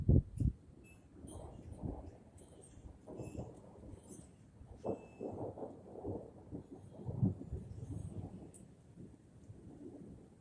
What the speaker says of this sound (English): The thunder's louder. And it's right over me now.